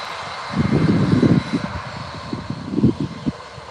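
An Aer Lingus Boeing 787 jet on its takeoff roll at full throttle at Birmingham Airport, heard as a low, rumbling engine roar with pulsing bursts that rise and fade, fairly distant and without speech.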